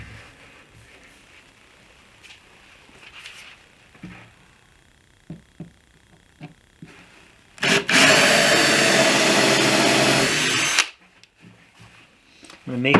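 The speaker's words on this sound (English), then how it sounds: "I'm going to drill some pilot holes" A power drill bores pilot holes into a wooden board for a wine display cabinet: a few quiet knocks and handling taps, then one loud, sustained whining burst of about three seconds that stops abruptly.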